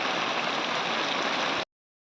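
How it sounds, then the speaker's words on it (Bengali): Heavy monsoon downpour outside: a loud, continuous, even rush of rain for about a second and a half, then it cuts off abruptly to silence. "বাইরে দেখুন মুষলধারে বৃষ্টি হচ্ছে। আর কিভাবে বৃষ্টি হচ্ছে আপনারা তো দেখতেই পাচ্ছেন, আর শব্দ শুনে বুঝতে পারছেন।"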